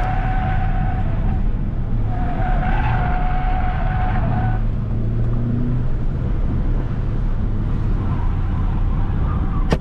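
A race car brakes hard on a track day in a racing video game, its tires skidding and squealing in two loud bursts over a constant engine drone, followed by lower rumbling as it slows.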